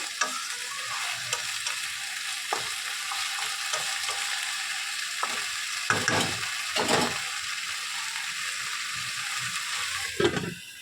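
Potatoes fry in a pan with ginger, cumin, dried red chillies, bay leaf and green chillies, giving a constant close sizzle while a spoon stirs and scrapes the pan in several louder bursts.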